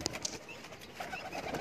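Pigeons coo softly at a pigeon-flying gathering, the low calls faint and steady beneath a hiss of outdoor background noise.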